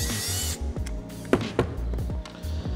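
A power driver with a T20 bit backs screws out of a foot pad, whirring in short bursts with ratcheting, clicking bit sounds and a couple of sharp knocks, close and loud.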